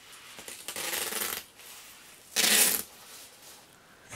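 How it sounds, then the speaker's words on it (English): Tape pulled and pressed over a zipper on a foam muscle suit: two bursts of loud, crackling, ripping noise, the second shorter and sharper, separated by quiet moments. "we're going to need to tape up the zipper so the zipper doesn't get all goopy."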